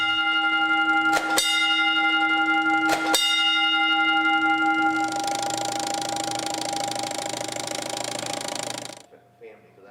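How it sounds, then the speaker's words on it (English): Fire alarm box teletype at a fire station tapping out a box number: a steady ringing tone interrupted by two sharp mechanical taps, then a burst of dense buzzing clatter before it stops abruptly. "The corner box is where you pull the alarm box that automatically is sent through a teletype. It taps out the number of the alarm box."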